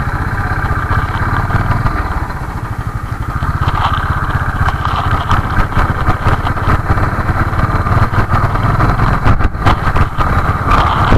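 A motorcycle engine drones loudly and steadily with buffeting wind noise while riding out on a bike trip from Noida toward Murthal, continuous and close, with no talking.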